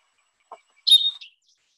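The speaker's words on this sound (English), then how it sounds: "its song in the West is usually thought of as chip, chip, chip, cheese, something on that order" Short song of a common northern New Mexico bird, heard alone: a faint low note, then a bright, slurred high whistle with a quick trailing note, clear against silence.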